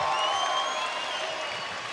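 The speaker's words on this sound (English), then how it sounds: "I just want to give her a round of applause." Crowd at a live MMA event in Bloomington, Illinois claps in a brief, steady wash of applause with faint tonal ringing in the background.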